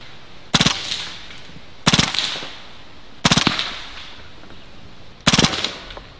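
A Hatsan Blitz full-auto .30 caliber air rifle fires four short bursts at soda cans outdoors, each a sharp rapid rattle of shots followed by a brief decaying echo, evenly spaced with quiet gaps between.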